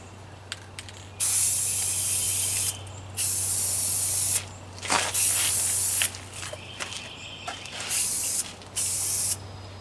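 Rust-Oleum ceramic engine paint hisses from an aerosol can in several sustained bursts of a second or two each, separated by short pauses, close and loud over a low steady hum.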